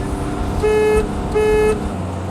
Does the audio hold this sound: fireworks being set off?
no